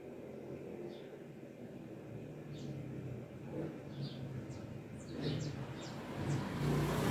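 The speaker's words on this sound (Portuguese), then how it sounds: "Falando que é barulho, toda horinha, é carro," Cars pass on a street outside, a faint, distant rumble of traffic swelling and fading, with a few bird chirps over a soft background hiss.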